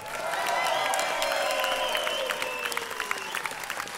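Concert audience applauding in a music hall as a Texas guitarist is introduced, a dense burst of clapping with some cheering that swells at first and then thins toward the end, with a voice faintly audible underneath.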